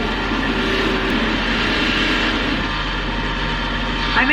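A power tool with a cloth polishing wheel buffing hard metal, a loud, steady whirring drone held close throughout, rising slightly near the end.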